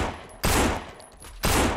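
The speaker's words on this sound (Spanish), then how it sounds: "Luego me alejo un poco y le pego 4 tiros" Two loud, sharp gunshot bursts spaced about a second apart in the video game No More Room In Hell, each ringing out over quieter ambient noise.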